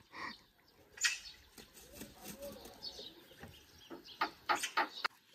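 Magpies call close by during a squabble over a nest: harsh, rasping chatter bursts repeat at an uneven pace, with loud clusters near the end.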